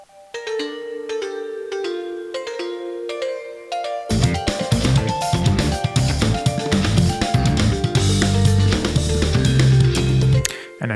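Layered synth parts built from a DX7-style mallet preset stacked with an EQ'd synth, low end trimmed: sparse bell-like tones at first, then a dense busy stack joins with interlocking bright notes and a low sustained bass toward the end.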